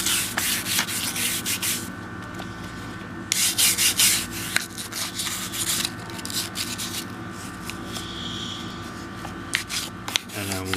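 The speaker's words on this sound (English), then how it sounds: "Go ahead and just brush off the surfaces." A brush scrubbing a firearm's outer surfaces and magazine well, steady close bristle rasping in quick back-and-forth strokes over a low background hum, no talking.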